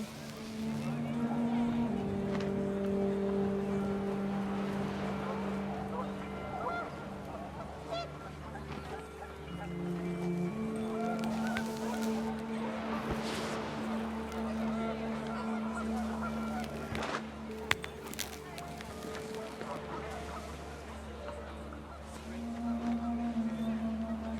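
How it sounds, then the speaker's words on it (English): Panicked geese honking in the game What Remains of Edith Finch, a dense flock calling loudly and continuously over wind and a low steady drone, with narration spoken over the noise. "The wind picked up, and panicked geese appeared and quickly went."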